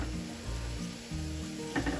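Spinach puris deep-fry in hot oil in a home kitchen, a soft, steady close sizzle and bubbling with faint low clatter throughout.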